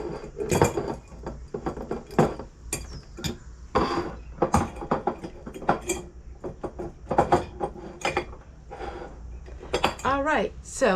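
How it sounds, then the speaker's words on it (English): Glass canning jars washed in a home kitchen, giving close, irregular clinks, knocks and rattles of glass and metal with splashing water throughout. "The first thing we're going to do is wash our jars."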